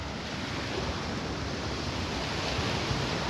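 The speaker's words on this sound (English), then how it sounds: "Rapids!" Steady broadband rush of river rapids on a riverside walk in Inverness, a constant close roar of churning water with no break or change in level throughout.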